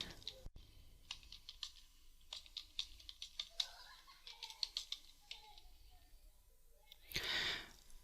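Someone types on a computer keyboard while entering table data in Microsoft Word 2016, giving quick irregular key clicks close to the mic, then a louder burst of rapid keystrokes near the end.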